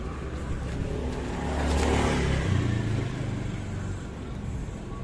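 An old, worn Honda Karisma motorcycle engine runs rough and steady at close range, a dense, gritty drone that swells briefly midway, then settles back to an uneven idle.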